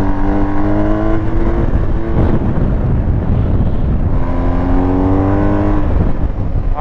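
A BMW R1250 GS motorcycle engine rated at 136 hp climbs loudly through the revs in two rising sweeps while riding, with its pitch repeatedly winding up under constant wind buffeting.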